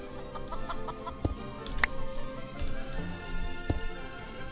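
A chicken in the video game Minecraft clucks in repeated short, clear calls over a steady game background, with no talking.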